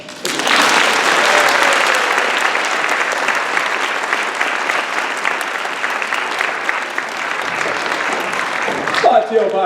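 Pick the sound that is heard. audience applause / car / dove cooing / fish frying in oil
audience applause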